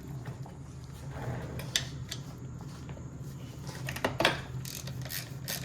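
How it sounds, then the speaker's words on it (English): Ratchet wrench clicking as bolts on a dirt bike's brake cover are loosened, intermittent close mechanical clicks and ticks over a steady low hum, with a couple of sharper bursts. "So I'm going to go through, grab a ratchet, and unbolt these real quick."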